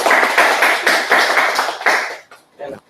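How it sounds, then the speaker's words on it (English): An audience claps at the close of an artist talk, a fast run of sharp claps for about two seconds that then trails off into a few scattered, softer taps. "One clap."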